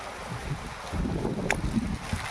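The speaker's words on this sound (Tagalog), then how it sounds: "Ang lakas ng hangin, no?" Gusty wind buffets the microphone in low, uneven rumbles, with a faint clink or creak partway through.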